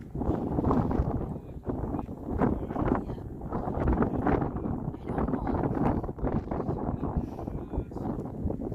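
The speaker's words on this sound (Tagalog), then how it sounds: "Viel zu viel Wind, viel zu viel." Strong wind by the Rhine at Dormagen, Germany, buffets the microphone in loud, gusting rushes that come and go, with a voice briefly audible underneath.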